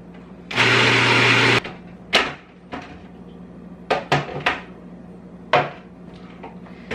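A food processor chops almonds and kale for vegan pesto in one loud, whirring burst of about a second, followed by several sharp clicks and knocks from the machine and its lid.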